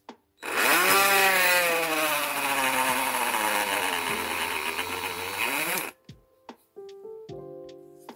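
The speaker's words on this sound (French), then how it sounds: "on vise bien la tête de vis, le centre si possible, et on perce" Small power drill boring into the screw head of an ST Dupont lighter, a loud, close, sustained whine with shifting pitch for several seconds, then stopping, followed by a few light clicks and taps.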